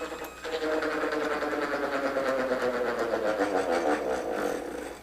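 Electric vehicle motor at full speed going into regenerative braking, giving a steady, fairly loud droning whine with layered tonal hum that holds throughout with slight wavering.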